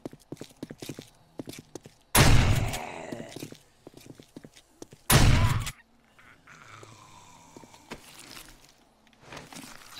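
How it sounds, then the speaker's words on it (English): Two heavy shotgun blasts in the video game 7 Days to Die, each a loud booming burst about three seconds apart, surrounded by quick game footsteps and clicks. "Let's get the old shotgun going."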